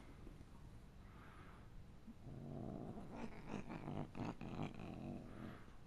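An elderly cat purrs softly and steadily at close range in a quiet room, a faint low rumble that swells slightly in the second half, with no talking.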